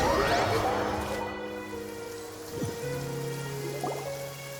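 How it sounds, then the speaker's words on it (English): Steady rain falls in the Genshin Impact video game, a soft continuous hiss that carries through the whole stretch under sustained musical tones. "It's been raining non-stop for a few days now."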